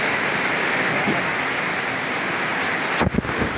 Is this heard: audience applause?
no